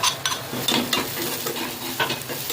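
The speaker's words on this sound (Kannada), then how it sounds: "ನಂತರ ಜೀರಿಗೆ ಸ್ವಲ್ಪ ಹಾಕಿ ಫ್ರೈ ಮಾಡ್ಕೊಳ್ಳೋದು" Crushed garlic, cumin and onion with green chilli frying in a pan for jeera rice: a close, continuous sizzle broken by several quick stirring scrapes and spatula clinks.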